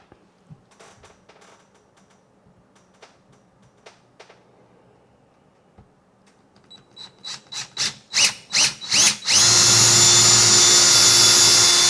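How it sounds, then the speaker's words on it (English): Power drill boring pilot holes into a wooden wall stud: scattered quiet clicks and taps, then a series of short rising trigger pulses that build into a steady loud motor whine with the bit cutting wood, close and without talk. "just got to drill some pilot holes."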